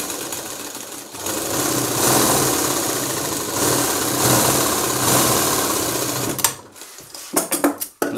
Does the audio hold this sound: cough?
no